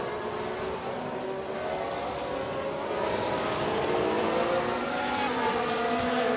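Formula 1 race cars in the F1 Manager game, at the Singapore Grand Prix, as several engines whine steadily past with rising and falling pitch, continuous and moderately loud with no talking.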